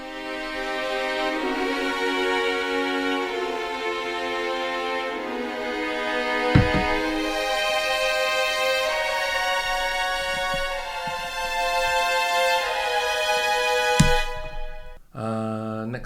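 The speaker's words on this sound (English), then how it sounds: "I used Spitfire chamber strings, full mic positions all the way to the max" Spitfire chamber strings with every mic position raised to maximum play a sustained, shifting orchestral chord line with a roomy, spacious tone, marked by two sharp transient accents before a brief break near the end.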